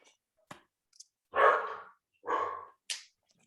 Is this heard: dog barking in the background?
yes